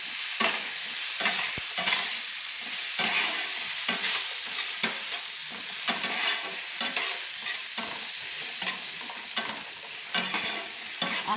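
Potato pieces with half a spoon of turmeric fry in oil for chirer polao, with a continuous sizzle and a spoon scraping and stirring the pan in a steady rhythm, close up and alone.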